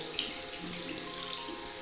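Water runs steadily from a tap while an air filter is rinsed under it, a continuous close hiss and splash with no pauses.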